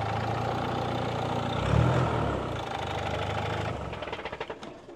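A car engine runs at a used car fair in Caruaru, Pernambuco, idling with a rough, throbbing beat that swells briefly before settling, then ends in a fast stuttering rattle, close and loud with no talk.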